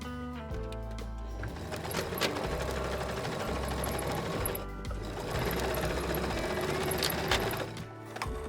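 A sewing machine stitches a denim bottom panel to a cotton piece for a tote bag, running steadily with a dense mechanical whir and rhythmic needle clatter, close and continuous with brief pauses and speed changes.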